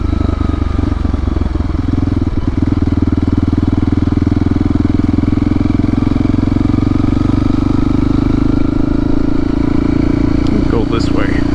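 A Honda CRF300L motorcycle with an aftermarket exhaust and the baffle fitted runs in a park, a steady, throaty idle-to-cruise drone that stays loud and continuous throughout, with a rider talking over it.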